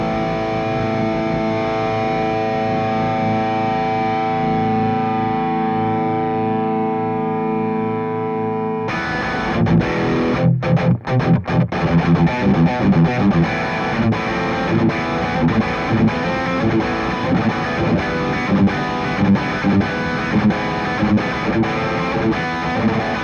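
Electric guitar through a mini amp, a rich sustained chord ringing with effects, then after a break a busier, distorted and heavily processed riff with steady picked rhythm, loud and close with no talking.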